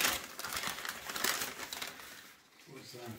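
Paper wrapping around takeaway food crinkles and rustles up close in a series of crisp bursts, fading briefly before more soft handling.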